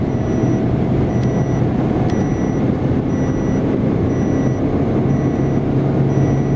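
A Great Wall M4 car running on LPG accelerates steadily, giving a loud, continuous engine and road drone heard from inside the cabin with no talking.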